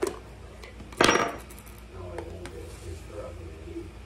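Top coming off a dried parsley container in a kitchen, one sharp rattling pop followed by faint clicks and handling noises, with quiet talk.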